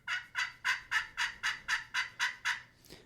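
A wooden box call imitates a turkey hen yelp: about ten evenly spaced raspy, nasal notes in a steady rhythm, close and loud, with no talking.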